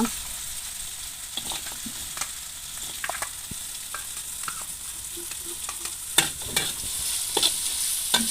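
Small anchovies fry with ground spice paste in a pan, a continuous close hiss broken by sharp scrapes and clacks of a spatula stirring, growing busier toward the end.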